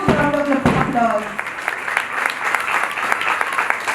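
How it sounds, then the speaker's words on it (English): Audience applause at a school investiture ceremony for the editorial board, a dense steady wash of many hands clapping, with a voice briefly heard over it at the start. "please give our editorial board a huge round of applause"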